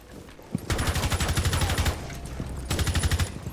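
Rapid automatic gunfire in a shooter video game, aimed at a barricade, comes in two dense loud bursts with a short lull between them and no talk.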